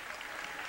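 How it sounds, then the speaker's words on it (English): A crowd at a 2003 girls' championship basketball game, Pike Central against Belfry, keeps up a short burst of steady, distant-sounding applause that washes evenly across the moment. "Big hand from the Pike Central crowd."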